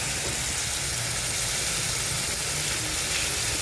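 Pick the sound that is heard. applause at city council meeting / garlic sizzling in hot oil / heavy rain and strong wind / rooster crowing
garlic sizzling in hot oil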